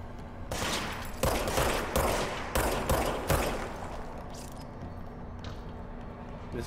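Several loud gunshots ring out from a gun in the action game Control, a few separate sharp blasts with decaying tails, followed by quieter rumble.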